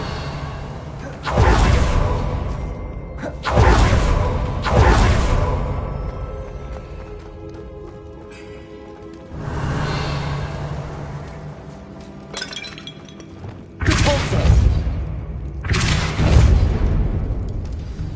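Magical blasting spell smashing a barricade in a Harry Potter video game, several loud booming crashes with shattering, glassy debris, separated by quieter stretches of game ambience and music.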